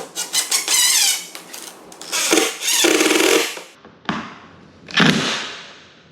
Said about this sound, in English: Okay, you heard the drill.